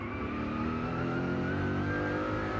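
Onboard a McLaren racing in an SCCC race at the Grand Prix de Trois-Rivières street circuit, the engine drones loud and steady at high revs throughout, close and continuous with no pauses.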